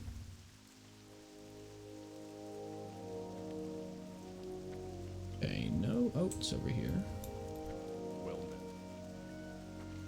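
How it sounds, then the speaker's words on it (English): Heavy rain falling in World of Warcraft Classic, a continuous hiss of drops beneath a low game music drone, with someone speaking briefly partway through. "This rain is heavy."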